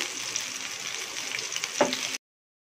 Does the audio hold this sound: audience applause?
no